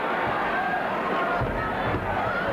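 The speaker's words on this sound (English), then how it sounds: "And the crowd picking up the chant, 2, 2." A wrestling arena crowd keeps up a dense, steady roar of chanting and shouting during a match, loud and unbroken with a few low thumps underneath.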